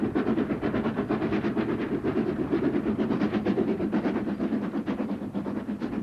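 A Beyer Peacock-built Mersey tank engine pulling a train on the Richmond Vale Railway rumbles steadily and continuously, its rhythmic clatter loud and close throughout.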